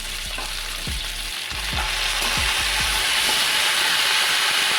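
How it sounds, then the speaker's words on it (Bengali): Vegetables sizzle steadily in hot oil as ginger paste goes in for a traditional Bengali shukto, with repeated low thumps and scrapes of stirring in the pan, the frying hiss rising slightly toward the end. "1 চামচ আদা বাটা দিচ্ছি।"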